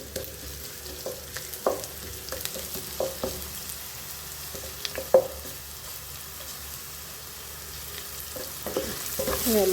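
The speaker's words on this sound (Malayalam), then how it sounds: "ഒരു അര സ്പൂണ് പെരിഞ്ചീരകം ഈ വെളിച്ചെണ്ണയിലേക്ക് ഇട്ട് കൊടുക്കുക. അത് ഇവിടെ കിടന്ന് ഫ്രൈ ആയി കിട്ടും." Whole fennel seeds fry in coconut oil with a soft steady sizzle, broken by irregular light taps and scrapes of a spoon against the pan, close and fairly quiet.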